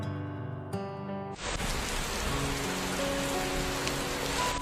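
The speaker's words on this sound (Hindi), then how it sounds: "बारिश हो रही है" Steady rain falls on a surface, a dense broadband wash that begins after a short musical passage and continues loud and even to the end with no voices.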